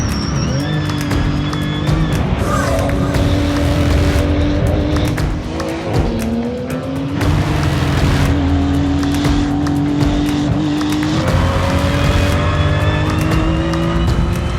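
A Porsche 935 race car climbs the rough, bumpy Pikes Peak hill-climb course, its engine screaming loud and close with repeated revs and shifts rising and falling, plus brief tire noise, under no talk.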